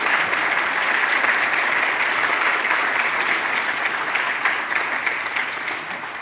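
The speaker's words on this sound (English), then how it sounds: "Maury, would you wave to the crowd so we can applaud you?" An audience applauds an award honoree at the ACRM 2022 Stibitz and Wilson Awards ceremony. The clapping is loud, dense and steady for about six seconds and tapers slightly at the end.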